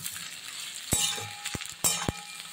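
Cauliflower frying in mustard oil for a pickle: a soft, steady sizzle, with a few sharp clinks of a metal utensil against the pan.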